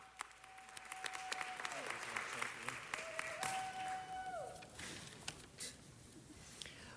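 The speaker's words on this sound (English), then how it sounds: "going to ask for a big applause for Susie Jack" Applause at a city council meeting, a steady wash of clapping from the chamber audience, moderately distant and faint, with a few brief tones over it.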